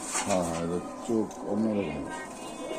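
Pigeons at a pigeon sale give soft, throaty coos in a few short phrases, close by and fairly quiet.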